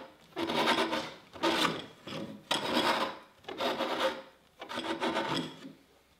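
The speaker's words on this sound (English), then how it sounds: "lightly scrape the nose with a canna or planer so it is easier to scrape the pole" A canna or planer scrapes along a bamboo pole in five steady, rasping strokes, close up with brief pauses between each pass.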